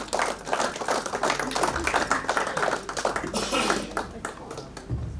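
An audience at the Swar Dharohar Festival in Jaipur applauds to welcome a poet to the stage for a shayari recital. Dense, steady clapping runs for several seconds at fairly close range, with a faint voice now and then.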